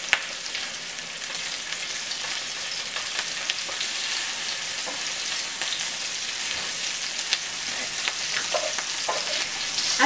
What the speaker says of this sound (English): we are going to scoop up our patties and put them into our pan